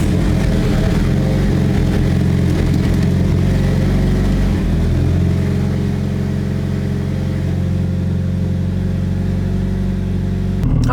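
A Mitsubishi Evo engine runs close by with a loud, steady rumble. It holds a constant idle for the whole stretch, and no one speaks.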